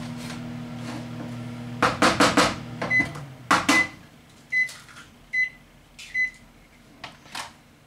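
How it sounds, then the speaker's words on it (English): A microwave heating cookies runs with a low hum, then a flurry of clunks from the door and handling, followed by a series of short, evenly spaced beeps. "Now I'm heating them up in the microwave."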